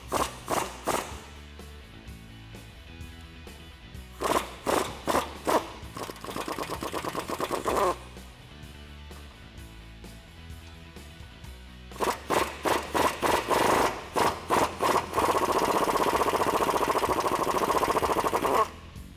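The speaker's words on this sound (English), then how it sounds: "we can remove the upper bolts on the shocks bar pin using a 16mm swivel, and I'm also using a 15-inch extension" Pneumatic impact tool rattling off the upper shock bar pin bolts on a Jeep Wrangler JK, driven through a 16mm swivel socket on a 15-inch extension; loud repeated bursts of hammering, some short and some long sustained runs, with no talk.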